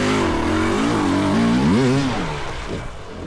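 A dirt bike engine revs hard on a rocky hard enduro trail in Oregon, its pitch climbing and wavering through several throttle blips close by, then easing off as the bike labors over terrain.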